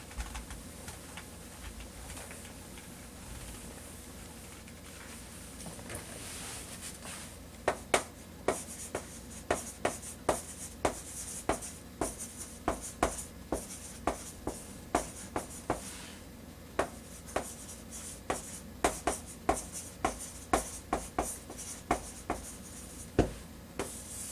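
A pen writes a sentence by hand on paper, a quiet scratching that turns into a steady run of short, crisp strokes and taps, close by with no talking.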